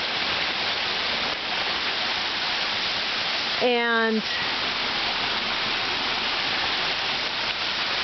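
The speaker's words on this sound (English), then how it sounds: "It's just a small waterfall coming down off the side of the hill" Small waterfall spilling off a hillside in the Quinault rain forest, a steady broadband rush of falling water that fills the whole clip, with a brief spoken word and a short tonal sound partway through.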